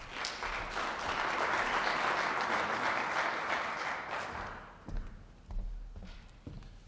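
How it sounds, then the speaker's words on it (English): An audience at a transportation summit applauds, a fairly distant, moderate round of clapping that fades out after about four seconds, followed by a few soft thumps and taps. "Nice of you to clap before I said anything."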